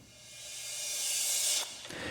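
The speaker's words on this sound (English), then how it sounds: "with a crashed or a reversed crash cymbal," A reversed crash cymbal programmed on an Elektron Digitakt swells as a rising wash of hissing noise, then cuts off sharply before a softer tail trails behind it.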